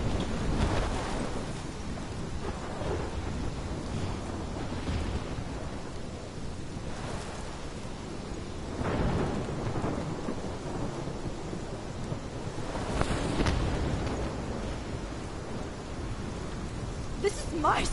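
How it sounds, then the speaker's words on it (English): Heavy rain and rolling thunder from a storm in the video game Life is Strange, a steady wash of downpour broken by several deep booming rumbles. "This is my storm."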